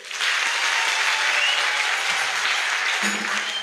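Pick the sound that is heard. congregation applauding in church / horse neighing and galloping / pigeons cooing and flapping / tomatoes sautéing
congregation applauding in church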